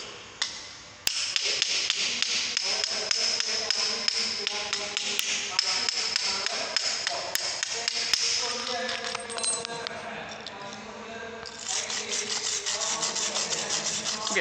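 Hammering to knock slag off an electric arc weld, a steady series of sharp metallic taps and scraping rubs, close up, with a bright ringing tone in the background.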